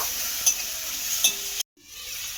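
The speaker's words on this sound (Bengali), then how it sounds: "দিয়ে এবারে দুটো উপকরণকে খুব ভালো করে একটু কষিয়ে নেব।" Ginger paste and green chili paste are stir-fried in a pan for a potol (pointed gourd) dish, giving a steady sizzle with two sharp spatula scrapes before the sound cuts off abruptly, then resumes more softly.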